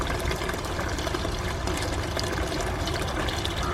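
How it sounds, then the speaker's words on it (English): Water from a small sump pump pours steadily into an aquaponic tank, a continuous close rushing splash without breaks or voices. "this fills up with water, and then I've got a little sump pump going on that it fills up to a certain amount"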